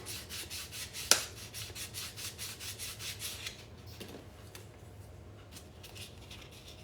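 Soft rhythmic strokes of a fingernail sanding block on silver at close range, a quick scratchy back-and-forth that stops after a few seconds, leaving faint handling noises.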